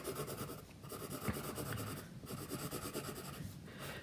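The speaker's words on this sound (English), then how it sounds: "Draw lines down." A pen scratches lines across paper while sketching a makeshift piano keyboard, soft close rubbing strokes in several bursts with short pauses between them.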